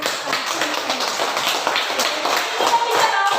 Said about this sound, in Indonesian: Pintar, tepuk tangan untuk